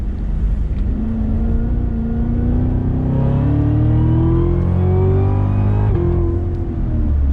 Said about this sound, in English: Love the sound coming from that Corsa exhaust. It is really out of control.